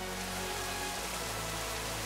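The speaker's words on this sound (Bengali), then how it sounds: "দেখতে দেখতেই শুরু হয়ে গেল মুষলধারে বৃষ্টি।" Heavy monsoon rain pours outside Elephant Falls in Meghalaya, an even, soft broadband hiss with no distinct drops or voices.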